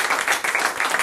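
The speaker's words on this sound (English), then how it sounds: "How about a nice round of applause for Dawn?" A high school audience gives a brief round of applause, a quick burst of scattered clapping in a room, pulsing unevenly for about a second.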